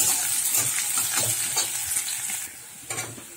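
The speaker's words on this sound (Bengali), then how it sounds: "দিয়ে পেঁয়াজটা একটু লাল করে ভেজে নেব" Chopped onion sizzles in hot oil with nigella seeds for a prawn dish, a continuous fizzing hiss broken by a few soft stirring scrapes, close and without speech.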